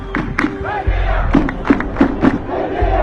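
A protest crowd in Sudan chants slogans in loud rhythmic bursts, many voices shouting together close by, with a rumble of movement and noise beneath.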